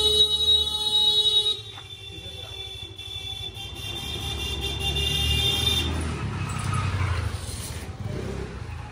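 Traffic moves through narrow old lanes in Varanasi, with engines rumbling close by and bursts of horns and buzzing alarm-like tones, loud at first and then a steady nearby vehicle drone.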